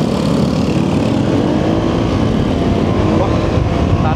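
A Vespa GT 200 scooter accelerates, its engine giving a steady, loud drone that stays strong and continuous from start to finish, mixed with broad wind rush.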